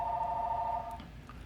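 A telephone rings with a bright electronic trill lasting about a second, then stops, heard faint and alone in a quiet room.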